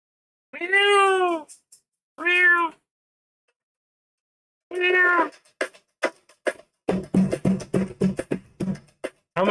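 A cat gives two clear meows, then a third after a pause, followed by a rapid run of short clicks and knocks, all close and loud against silence.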